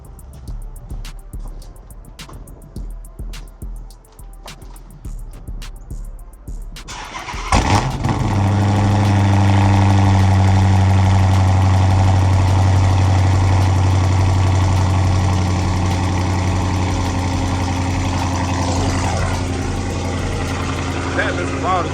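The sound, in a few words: cold start of cammed Chrysler 300C engine idling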